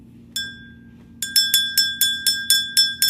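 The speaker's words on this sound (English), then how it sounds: "You know I'm going to ring my bell." A hand bell, once belonging to a family member, is struck once, then rung in a quick steady series of about eight bright, ringing strikes with clear overtones, close and alone over a low hum.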